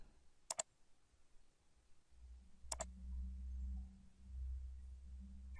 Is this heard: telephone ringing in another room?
no